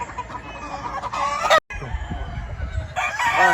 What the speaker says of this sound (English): Beautiful looking rooster.